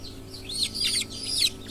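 Native chicken chicks cheep and peep in rapid high chirps as they are caught for weighing, close and fairly loud over a faint low hum.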